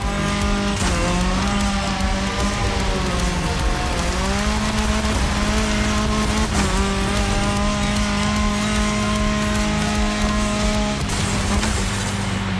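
A car driving in TC Motorfest, its engine holding a steady loud drone with shifting pitch as it revs and changes gear, mixed with tire and gravel noise, continuous and close.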